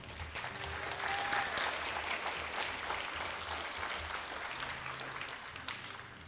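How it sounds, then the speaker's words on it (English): Audience applause at a school talent show after a young guitarist's performance, a dense, steady wash of clapping from a crowd that holds strong for the whole stretch. "Let's give him a big round of applause."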